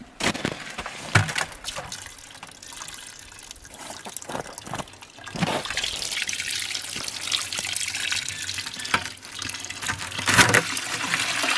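Maple sap is poured out of a collection container by a tree, gushing and splashing loudly in uneven bursts with trickling between, the stream swelling strongly near the end.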